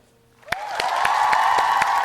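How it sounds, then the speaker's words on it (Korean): A group at a church youth Easter service bursts into applause after a brief quiet moment, and the clapping settles into a steady, dense patter that lasts to the end. "먼저 기쁨의 박수 한번 칠까요?"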